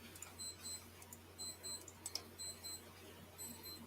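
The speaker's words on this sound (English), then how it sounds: "Your alarm's going off, Gary." An alarm clock goes off in short repeated bursts of high electronic beeping, fairly faint over a steady low hum, with no talk.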